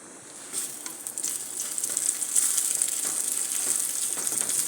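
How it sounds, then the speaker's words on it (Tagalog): Molokhia bubbles and sizzles steadily in a pan over medium heat, a continuous hiss with a close, even texture that grows slightly louder and holds throughout, with no talk. "As you can see, nagbabubbles na siya."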